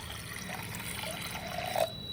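Water pours steadily into a pressure cooker holding lentils, making a soft continuous trickle that briefly swells near the end and then stops.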